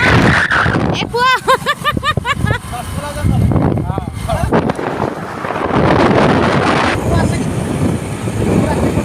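Strong wind roars and buffets the microphone in a jungle, loud and continuous, with people's voices breaking through early on.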